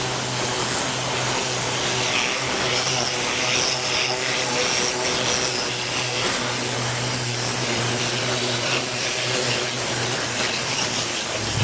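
Steady, loud blast of compressed air from a Tornador air-powered cleaning tool hissing continuously on a car wheel, a harsh broadband rush with no breaks.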